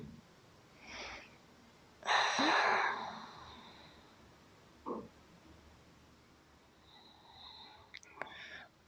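Deep breaths taken during a slow, relaxing yoga session: soft, breathy inhales and exhales, a couple of fuller sighing breaths, close and fairly quiet, with no talk.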